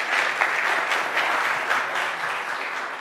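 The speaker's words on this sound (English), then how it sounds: "one more round of applause for Dr." A church congregation applauds for a guest speaker in a dense, steady wash of clapping that stays at an even level from start to finish, with no voices over it.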